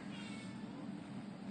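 A drawn-out cat meow, low and moaning, heard fairly quietly against a soft steady background hum.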